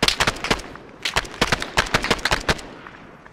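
Rapid bursts of gunfire in a multiplayer military shooter game night, with quick clustered shots and short pauses between volleys that fade toward the end, fairly close and loud with no talk.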